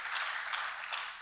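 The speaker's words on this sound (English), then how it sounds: "please applaud the panelists" A conference audience applauds the panelists with steady, dense clapping that fills the whole brief moment, moderately loud with no talk over it.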